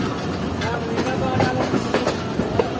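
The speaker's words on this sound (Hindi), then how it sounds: "तो ये वो ट्रेन है जो कि इस ब्रांच लाइन से होती हुई आगे जाकर मेन लाइन से मिल जाती हैं" A train rolls along a branch line at a railway junction, a steady rumble with clattering wheel beats and faint squeaks running through the whole stretch, close by and fairly loud with no talk over it.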